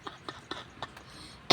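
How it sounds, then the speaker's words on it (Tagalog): A person with a lingering cough, worsened by getting rained on, gives several short, dry coughs close by, spaced irregularly, ending in a louder burst. "Inuubo talaga ako."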